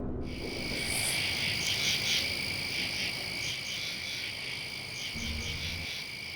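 Frogs croak in a steady wild chorus, the calls rising and falling continuously alongside a layer of insect trilling.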